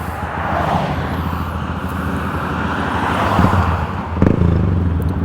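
A 2018 Honda Grom motorcycle engine runs in a steady, droning rumble that swells slightly toward the end, close and loud, with a couple of brief knocks and no talking.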